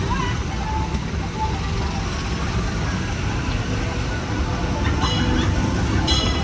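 Disneyland Railroad train pulling into Tomorrowland Station, a steady close rolling rumble of wheels and cars with brief high squeals toward the end, and faint voices in the background.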